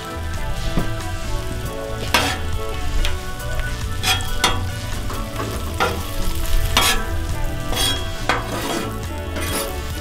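Onions fry in a pan for quesadillas, a steady loud sizzle broken by repeated scrapes and clanks of a utensil stirring against the pan.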